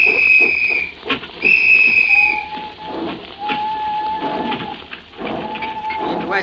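At a train station, a station master's whistle gives two shrill blasts over a busy, noisy platform, followed by lower, longer whistle tones.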